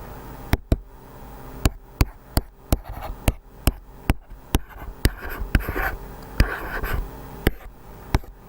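Numbers are written by hand, a pen tapping and scratching on paper in a quick, irregular series of sharp close strokes and taps with soft scratching between.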